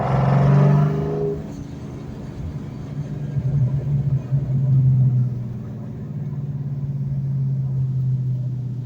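A 2004 Procharged Mustang Mach 1 V8 rumbles steadily while driving, with a brief louder rev at the start, then a continuous low drone that swells slightly mid-clip before settling into a steady cruise.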